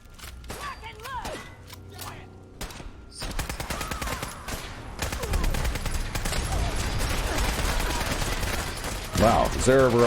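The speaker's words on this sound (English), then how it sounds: "Wow, is there ever a lot of gunfire out here?" Dense, sustained gunfire in the Fallout 4 wasteland: rapid clustered shots and bursts fill the clip alongside chaotic combat effects, with a few sharp isolated reports at the start before the firing thickens into a continuous barrage.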